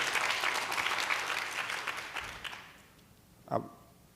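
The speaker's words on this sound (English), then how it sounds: "Let's give Mr. Jones a hand clap." An audience at a faith and finance seminar applauds Mr. Jones, a loud, dense burst of clapping that thins and fades out after a few seconds, followed by a single soft knock.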